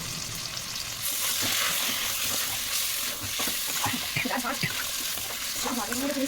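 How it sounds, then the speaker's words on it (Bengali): Meat sautéed in a pan in a home kitchen, a steady loud sizzle and frying hiss with stirring and scraping, plus some clinks and handling noises toward the end. "একটু মাংসটা কষাচ্ছি"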